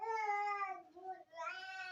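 A black cat at an animal rescue association gives two clear, close meows separated by a short pause, the second rising in pitch, with no talk over it.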